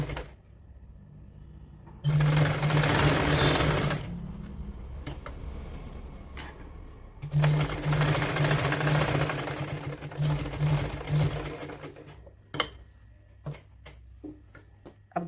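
A sewing machine stitches a woolen kurti in two long, loud runs of steady mechanical whirring, separated and followed by quieter handling clicks and fabric shuffling.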